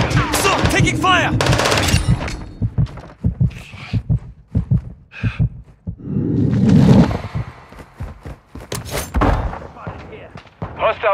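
Gunfire in Call of Duty Modern Warfare II multiplayer: scattered bursts of sharp shots and impacts amid in-game radio voice callouts, with loud clusters near the start and middle.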